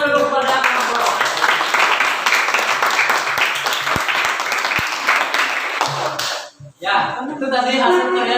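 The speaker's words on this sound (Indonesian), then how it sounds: "Berikan tepuk tangan dulu kepada kelompok." Classroom applause for a student group during a teaching session, dense clapping from many hands filling most of the stretch before a brief lull, with voices mixed in.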